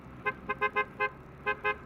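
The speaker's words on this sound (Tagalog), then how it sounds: "So, sira yung relay ng busina ng dual horn." A car's dual-tone horn with a faulty relay gives seven short honks in an uneven rhythm, loud and close, over a low engine hum.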